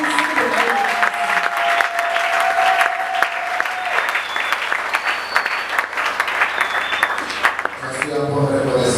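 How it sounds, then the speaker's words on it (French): A church congregation claps loudly and steadily, a dense wave of applause from a large crowd filling the room, with a voice speaking over it and brief musical tones rising near the end. "Est-ce qu'on peut acclamer le Seigneur?"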